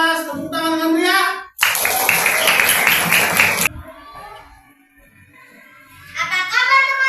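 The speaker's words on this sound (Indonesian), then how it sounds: "Tepuk tangan dengan meriah." Classroom of children clapping together in a lively, sustained burst of applause, preceded and followed by kids' voices chanting and calling out in unison.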